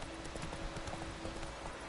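Horse hooves clip-clopping in the video game The Witcher 3, a steady run of soft hoofbeats under a constant dense wash of ambient game noise and a faint steady tone, with no talking.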